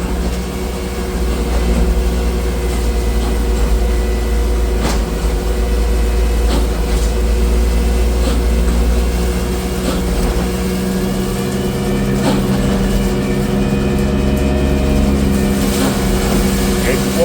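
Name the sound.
straw blower running in calf barn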